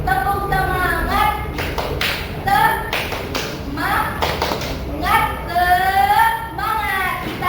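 Schoolchildren in an Indonesian classroom clap in quick rhythmic bursts while chanting the tepuk semangat cheer together, their high voices rising and falling over the claps for several repetitions.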